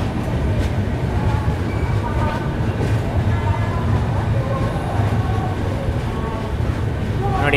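An Indian Railways train runs on the Chennai to Bengaluru line, heard from aboard an AC double-decker superfast express. A loud, continuous low rumble carries faint rail clicks throughout.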